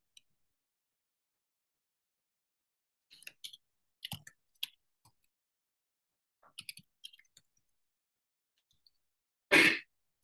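A single sharp sneeze bursts out near the end, loud and close, following a few quiet rustling clicks and soft breathy sounds.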